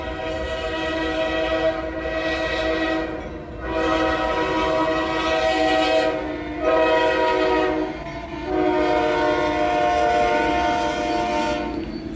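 CSX freight train led by locomotive 388, with a Heritage unit trailing, passing close by, its horn sounding in several long blasts over the steady roll of the cars.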